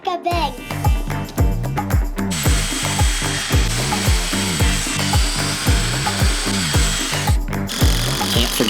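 Power drill driving screws into a wooden picnic bench, a steady run of ratcheting bursts repeating about twice a second, loud and close, with brief pauses near the start and around the seventh second.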